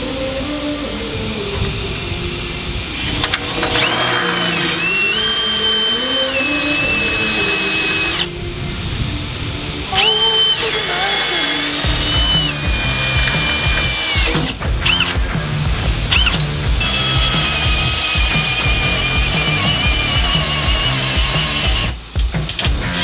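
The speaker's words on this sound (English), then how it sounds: "we'll start drilling this." A power drill bores into metal during a marine window installation on a boat, running loud and steady with a shrill grinding whine that rises and shifts as the bit bites, with brief pauses between bursts.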